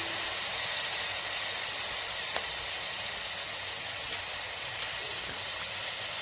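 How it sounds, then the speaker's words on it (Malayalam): Sliced tomatoes sizzle in a hot pan for a Kerala-style chicken curry, giving a steady, dense, close hiss that holds evenly throughout, with a few faint pops and ticks. "നമ്മൾ കട്ട് ചെയ്ത് വെച്ചിരുന്ന തക്കാളി സ്ലൈസ് ചെയ്തത് ചേർത്ത് കൊടുക്കാം"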